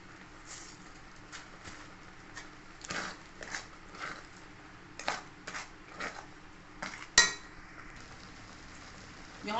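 Sabudana halwa is stirred in a pan, a spoon scraping and clinking against the metal in scattered, uneven strokes, fairly close but quiet, with one sharper knock partway through and no talking.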